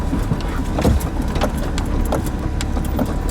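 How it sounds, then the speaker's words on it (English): Big old four-wheel drive truck on a rough dirt road along the Jefferson Highway in northern Missouri, heard from inside the cab as a constant loud engine and road rumble, with rattles and knocks from the bumpy surface. "Make it with this big old four-wheel drive truck."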